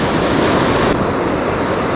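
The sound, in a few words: ocean waves on Hawaii shore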